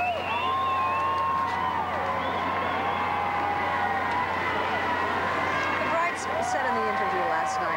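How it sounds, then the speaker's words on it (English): Large crowd outside Westminster Abbey cheering continuously at the 1986 royal wedding of Prince Andrew and Sarah Ferguson as the bride arrives, a steady distant roar with a commentator's voice over it. "Boy, you can hear the crowd."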